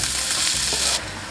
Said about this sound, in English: we're gonna fry up some onions to make some relish